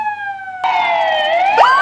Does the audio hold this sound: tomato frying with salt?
no